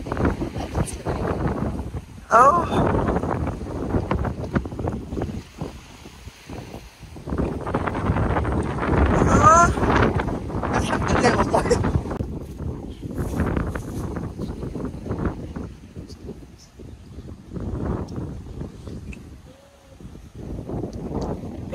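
Strong wind at a beach in Ain Sokhna buffets the microphone in long roaring gusts outdoors, with a brief spoken phrase somewhere amid the blustery noise.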